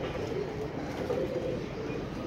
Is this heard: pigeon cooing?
yes